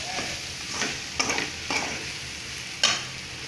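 A spatula stirs grated coconut into bottle gourd curry in a hot pan, with steady sizzling and several scraping strokes in a regular rhythm, close and moderately loud with no talking.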